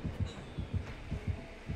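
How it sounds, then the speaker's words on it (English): A heartbeat pulses in the Dead by Daylight video game, a low, steady thumping throb repeating about every half second, close and prominent with a faint hum beneath and no voices. "Y'all heard that heartbeat"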